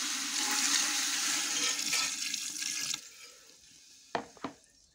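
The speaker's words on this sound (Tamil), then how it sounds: "பாருங்கள், இனி தண்ணி ஊற்றிடலாம்." Water pours steadily into a pot of country chicken curry (nattu koli kulambu) with ground masala, a close, continuous splashing stream for about three seconds, then quieter with a couple of brief knocks near the end.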